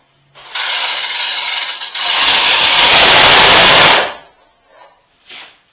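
A cordless drill cranks a Cabinetizer cabinet install lift, a short slower whir first, then a longer, louder, faster burst of motor whine. It stops abruptly and is followed by a few faint clicks.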